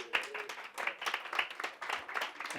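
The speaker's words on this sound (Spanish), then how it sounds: "Un aplauso para la diseñadora" A small group in a classroom gives a brief, sparse round of claps for a designer, with distinct individual hand claps in an uneven rhythm and a faint voice in the background.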